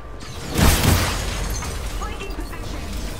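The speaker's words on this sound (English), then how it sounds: "Do not need all that explosion." Explosions in the Marvel's Avengers video game, a booming blast near the start that rolls into a sustained rumble, with a player's voice talking over the game audio.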